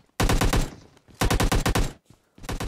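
A video game gun fires three rapid automatic bursts, loud and close, separated by short pauses, with no talking over them.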